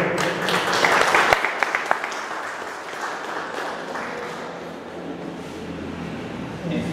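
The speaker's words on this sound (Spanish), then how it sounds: "fuerte voto de aplauso." An audience claps for a governor at a public meeting about mudslide prevention in Chosica, Peru, the dense applause strongest at first, then thinning into a steady patter that fades out.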